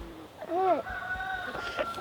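Chickens cluck and call nearby in a few short, rising bursts over a faint, steady background hum.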